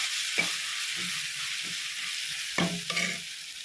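Chilli powder frying in a pan for prawn curry sizzles with a steady hiss, broken by a few close stirring scrapes of the spoon.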